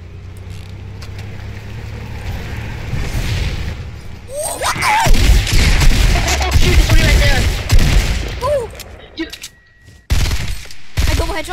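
Gunfire in the battle royale game Fortnite crackles in loud, dense bursts mixed with booming impacts and movement noise through the middle, then cuts off briefly before resuming.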